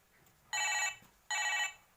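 A toy telephone rings in two short electronic bursts separated by a brief gap, moderately loud against a quiet room, with no speech.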